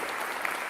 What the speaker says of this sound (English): Clap it up for Total.